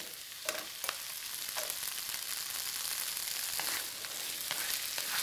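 Okra frying in a pan with onion, curry leaves and green chilli gives a soft, steady sizzle close by, broken by a few light stirring scrapes and clicks, with no talking.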